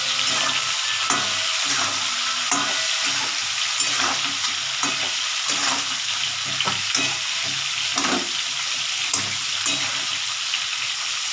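Fish frying in a pan while being stirred, a continuous loud sizzle with repeated scraping stir strokes, close up and without talk.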